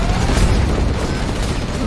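Heavy tank cannon fire in the real-time strategy game Command & Conquer Generals Zero Hour, a loud, dense booming barrage with rumbling low end that continues through the clip, with no gaps between shots.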